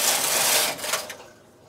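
A knitting machine carriage sweeps across a row, making a close, brief hissing and rattling rub that tapers off into quiet by the end.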